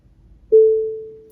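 A single electronic beep from a Tesla car stopped at a red light, sharp onset then a clear steady tone fading slowly over about a second against a quiet cabin.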